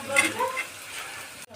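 Onions and garlic fry in a pan, a quiet sizzle with a few soft scraping stirs near the start, all fairly faint and brief before cutting off.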